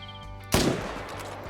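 A single scoped rifle shot in the hunting video game Call of the Wild, one sharp loud crack with a short decaying rumble.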